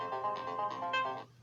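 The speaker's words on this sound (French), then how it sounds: "mon téléphone qui sonne" A mobile phone rings with a melodic electronic ringtone, a repeating pattern of bright tones that stops abruptly near the end, heard alone without talk.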